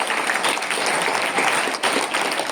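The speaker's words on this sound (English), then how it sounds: "A good clap, a big round of applause" Dense audience applause at an inspirational talk, steady and fairly loud for the whole stretch, many hands clapping together without a break.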